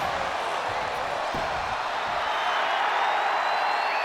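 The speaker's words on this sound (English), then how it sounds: "You can listen to the crowd roar, man." Wrestling arena crowd in the WWE 2K25 game, a steady, dense roar of many voices filling the space continuously, with a faint thud early on.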